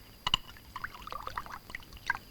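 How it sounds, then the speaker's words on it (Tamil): Water, bottled drinking water, poured into a tumbler indoors: a short sequence of close, splashy pouring and trickling bursts, fairly quiet with brief louder spurts at the start and end. "தண்ணி ஊத்து."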